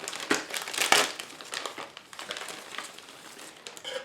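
Close plastic crinkling and rustling as a BF-109 model kit box is opened and its plastic bag handled, with a couple of sharper crackles early on, then softer continuous handling.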